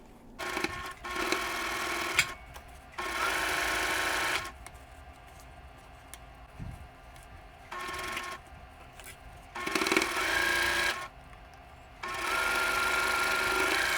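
Home sewing machine stitching a pieced quilt pinwheel block, whirring in several steady bursts of a few seconds each, with quiet gaps and small handling noises between runs.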